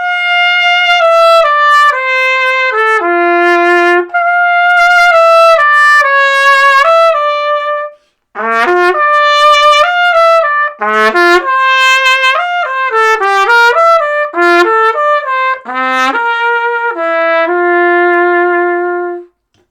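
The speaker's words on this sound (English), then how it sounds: "When you do that, you can play music like this." A trumpet plays a melodic passage up close and loud, phrases of stepping notes and held tones with one short breath pause partway, ending on a long sustained note; no talking.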